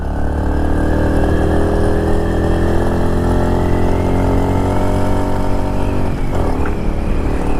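A motorcycle engine drones loud and steady while riding at around 90 to 93 km/h, a continuous close engine note with stacked harmonics and a brief dip near the end, with no talk over it.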